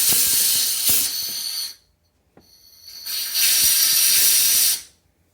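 Homemade media blaster blasting a piece of crusty aluminum: a loud, close, harsh hiss of air and grit runs for almost two seconds, stops, then resumes for another two seconds before cutting off.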